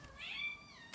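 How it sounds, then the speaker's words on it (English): A cat meows from the next room, a single faint, drawn-out call heard at a distance with no talk over it. "that's my cat in the next room"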